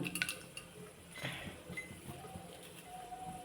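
A spoon clinks and scrapes against a metal pot as spices are mixed into baby jackfruit biryani. The clinks come as a few light, close taps near the start, then soften into quiet stirring.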